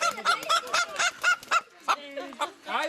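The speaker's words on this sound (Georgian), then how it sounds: "როგორი სხვანაირი ქათამია, ნახეთ ხელში" An exotic chicken-like fowl at a mini zoo gives a run of repeated nasal, honking calls in a fairly even rhythm, loud and close, then a few looser, uneven calls toward the end.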